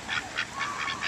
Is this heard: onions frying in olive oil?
no